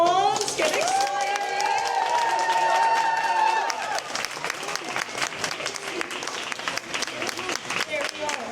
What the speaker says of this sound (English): So can we please get a round of applause?